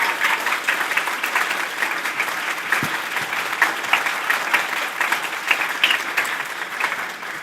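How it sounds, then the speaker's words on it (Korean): A hall audience of young people and elders at a youth leaders' academy launch ceremony applauds in sustained, dense clapping that holds steady for several seconds, close and fairly loud with no talk over it. "우리 청년들이 먼저 어르신들께 참석해 감사의 뜻으로 박수 한번 주십시오"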